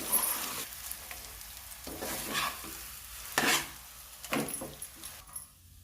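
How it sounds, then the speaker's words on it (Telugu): Curry leaves and garlic stirred in a hot pan while making potato fry rasam, spoon scraping in irregular strokes over a steady sizzle, close and fairly quiet, with no one speaking. "ఇప్పుడు కరివేపాకు, వెల్లుల్లి వేసుకుని బాగా కలపాలండి."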